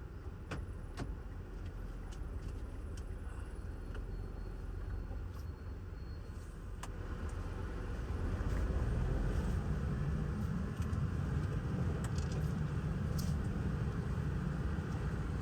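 Mitsubishi Mirage G4 car on a brake test drive after new brake pads and brake shoes, heard from inside as a steady engine and road rumble that grows louder partway through, with a few light rattles and no talk.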